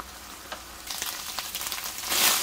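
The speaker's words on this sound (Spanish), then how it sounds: "ya se consumió su juguito, ya se está guisando" Beef liver sizzling in a frying pan for a liver and onions dish, a close, steady crackle of frying that grows louder and hisses more strongly toward the end, with a few stirring clicks.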